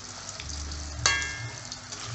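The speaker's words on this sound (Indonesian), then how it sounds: "minyaknya sudah panas, kita masukkan pisangnya" Banana pieces frying in hot oil give a continuous close sizzle and crackle, with a brief sharp splash burst as more fruit goes in, then steady bubbling.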